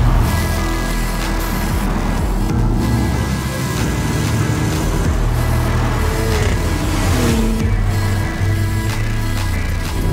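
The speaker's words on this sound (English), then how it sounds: "This is the sound of the new Cayenne Coupe." A 2020 Porsche Cayenne Coupe with sports exhaust rumbles and revs nearby, a deep throaty exhaust with rising and falling pitch as it accelerates.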